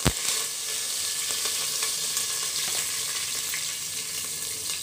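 Cumin seeds and curry leaves crackle in hot oil inside a pressure cooker, a steady close sizzle with scattered pops that follows a sharp initial burst as they go in, with no talking.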